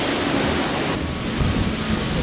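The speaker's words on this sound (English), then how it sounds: "It's very windy here." Strong wind buffeting the forward deck of the Grand Princess cruise ship at sea, a loud, continuous roar of rushing air and microphone-battering gusts mixed with distant ocean wash, with no voices.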